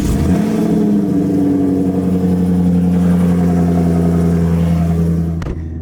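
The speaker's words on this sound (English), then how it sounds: "hop in the Camaro and get this cold start" A Chevrolet Camaro engine cold-starts at a night car meet, catching quickly and settling into a loud, steady, high fast idle with a deep rumble, close to the microphone and alone, until it cuts off abruptly near the end.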